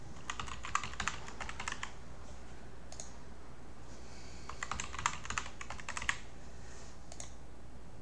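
Computer keyboard typing while entering a local account during Windows 11 Home setup, with quick bursts of close clicky keystrokes separated by short pauses.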